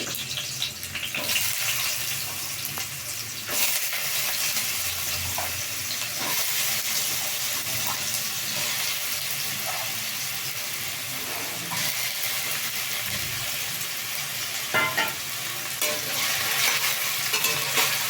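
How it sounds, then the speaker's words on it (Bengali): Potato pieces frying in hot oil with tempering spices in a partly covered pan, a steady close sizzle that runs the whole time, with occasional stirring scrapes and no talk. "ভেজে নেব ভালো করে এটাকে একটু ঢেকে ঢেকে ভেজে নেব"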